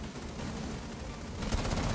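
Gunfire in a video game rattles through a dense, noisy wash of sound, growing louder and sharper in the final half second with a burst of shots, no talk over it.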